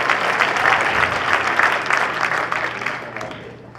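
An audience at a project management symposium gives a round of applause, a full wash of many hands clapping at steady volume that gradually tapers off near the end.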